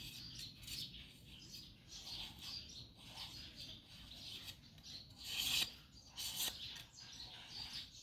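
Palm-stem strips are shaved along their edges by hand, giving a continuous dry rasping scrape with repeated strokes, close and fairly quiet, with faint bird chirps in the background.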